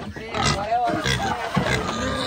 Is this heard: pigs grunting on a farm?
yes